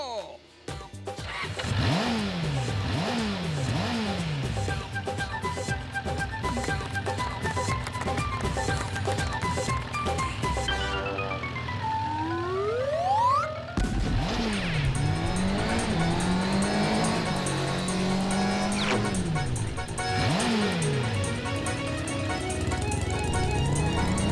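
Cartoon race cars and motorcycles roar past in a Hindi animated show, with repeated rising and falling engine whines, revving and tire squeals, loud and continuous, and a voice talking over the racket.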